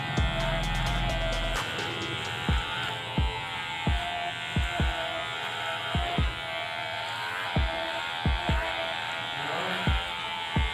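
An electric hair clipper buzzes steadily through a police-style military haircut, a continuous close hum carrying irregular soft thumps and clicks as it works over the head.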